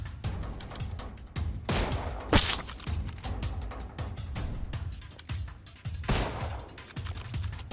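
Gunfire from a sniper video game: several sharp shots and bursts crack out at irregular intervals over a steady busy background of game noise, with no talking.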